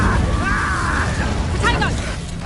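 An Incendio fire spell cast in Hogwarts Legacy bursts out as a loud crackling whoosh with a booming pop, layered over dense combat noise and voices.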